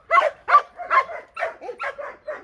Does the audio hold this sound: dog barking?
yes